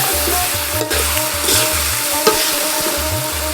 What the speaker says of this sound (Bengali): অনেকটাই ভাজা ভাজা হয়ে গেছে, কষানো প্রায় শেষের দিকে